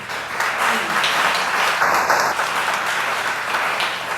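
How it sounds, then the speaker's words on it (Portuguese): Church congregation applauding the Lord during a Portuguese-language worship service, a steady wash of clapping filling the room throughout, with a brief high electronic tone partway through. "Desocupe as suas mãos aí, aplauda o Senhor."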